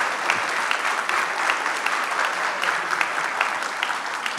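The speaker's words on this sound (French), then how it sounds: "C'est vous qui allez nous applaudir." Sustained applause from an audience at a school event, dense steady clapping filling the room from start to finish with no voices over it.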